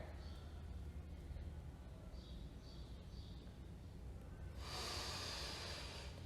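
Slow breathing during a guided meditation and movement session, soft airy breaths at an even pace, faint and close, with a longer, louder exhale near the end.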